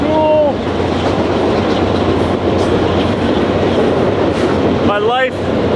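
Trains rolling past a grain mill, a loud steady rumble of railcars with a brief horn-like tone at the start and squealing wheels near the end, with a voice faintly over it.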